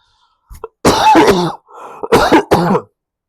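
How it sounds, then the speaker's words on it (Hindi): A few harsh, close coughs and throat-clearing bursts in quick succession, loud and alone, with brief pauses between them. "थोड़ा सा खांसी हो गया"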